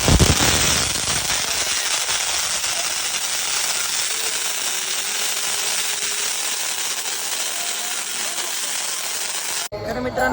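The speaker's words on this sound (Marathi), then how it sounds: "दोनशे आठ शॉट लावलेला आहे फटाका" A 208-shot firecracker string bursts at a Ganesh idol immersion procession, a dense, loud, continuous crackle of rapid pops running almost unbroken for about ten seconds before cutting off abruptly.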